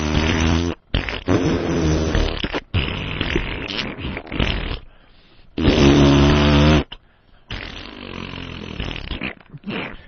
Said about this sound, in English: Oh, fart noise.